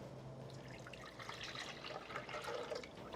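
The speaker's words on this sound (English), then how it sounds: "let's pour our milk into the blender" Milk is poured into a blender for a banana pudding, a faint, steady liquid splashing and trickling for a few seconds with no talk.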